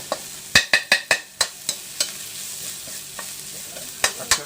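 Field rat being stir-fried in a pan, with a run of sharp, close scraping strokes from the spatula, first rapid and then spaced out, over a soft background sizzle.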